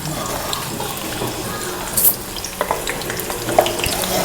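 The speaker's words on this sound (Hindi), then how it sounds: "तेल में डाल रहे हैं लहसुन" Garlic sizzles and crackles steadily as it fries in oil in a pan for sarson ka saag, with occasional stirring clinks and scrapes.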